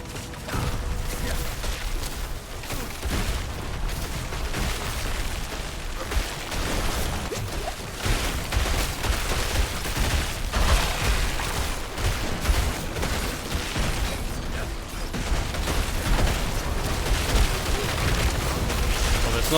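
Explosions and combat from a Sorcerer battle in Diablo 4, a dense, loud run of booms and crackling blasts that barely lets up, with faint talk underneath.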